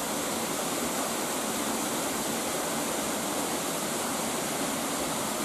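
Fudo waterfall in Higashiagatsuma, a three-tiered fall with heavy flow, roaring as a loud, steady wash of rushing water that holds for the whole stretch, with no voices over it.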